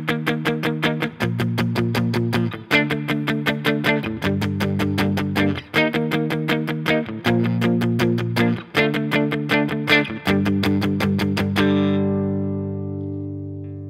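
A distorted electric guitar strums the pre-chorus chords of a song in a driving, muted rhythmic pattern, loud and close, with chord changes every bar and a final chord ringing out alone.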